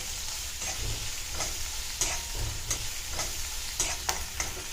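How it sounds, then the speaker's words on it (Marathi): Cumin and mustard seeds frying in hot oil in a heated kadhai, a steady close sizzle with occasional stirring scrapes and pops throughout. "कडे आता तापली आहे, तेल टाकते आणि नंतर मग जिरे मोहरी"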